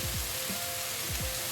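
Brinjal pieces frying in a pan for an onion curry make a close, steady hiss with a few soft scraping stirs.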